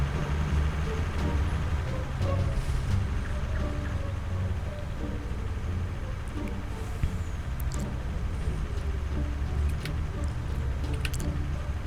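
An old long-nosed tractor unit in Farming Simulator 19 drones loudly and steadily for the whole stretch. A faint blower howl rides over the heavy low engine rumble, with no voices.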